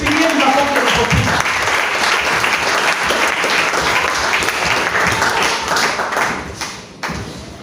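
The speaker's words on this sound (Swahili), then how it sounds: "Pigieni makofi" A church congregation applauds the Sunday school children with loud, dense, continuous clapping that stays strong throughout and thins briefly near the end, with a few voices mixed in.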